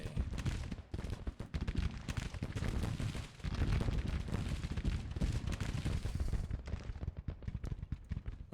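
Units firing guns in a strategy video game set in the American Civil War, spring 1861 US campaign: dense rolling volleys of musket and cannon fire crackling continuously, with brief gaps, loud and near, no talk.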